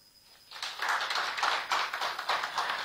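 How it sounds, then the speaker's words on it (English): An audience at a live show applauds a dance routine, bursting into clapping after a quiet start and holding a rhythmic, lively round of hand claps to the end. "please give a round of applause for that dance routine that just happened a while ago"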